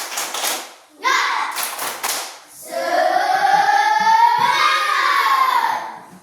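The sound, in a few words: children doing a rhythmic spirit clap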